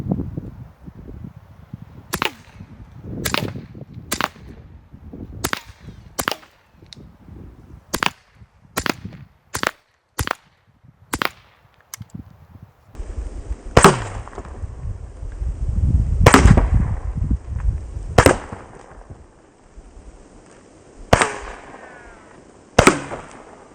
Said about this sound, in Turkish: 15 metre mesafeden çet kola atışları.